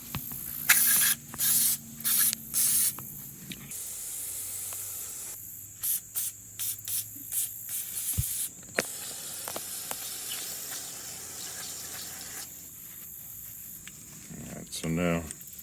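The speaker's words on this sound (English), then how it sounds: "Let's see if we can spray this out a little." Aerosol carburetor cleaner sprayed onto the dirty carburetor of a gas log splitter, heard as several short, sharp hissing bursts, with a person talking in between and mechanical clicks.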